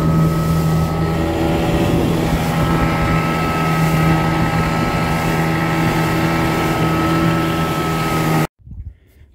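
A Mercury outboard motor with a dirty carburetor roars loudly at full revs with a steady drone, then abruptly dies, leaving brief faint sounds afterward.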